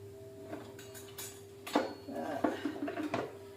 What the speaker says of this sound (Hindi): इसमें हम करेंगे अंडे फ्राई के लिए